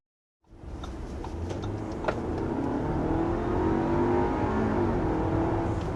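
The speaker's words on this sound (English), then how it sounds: "There's a nice quick acceleration in this 2023 Audi Q5." A 2023 Audi Q5 accelerates hard from rest, its engine note rising steadily into a loud, sustained revving pull that continues to the end, heard from inside the car with no talking.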